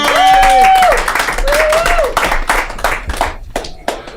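Applause from a comedy club audience, clapping rising after a spoken sign-off and continuing in uneven bursts, with a voice talking over the start.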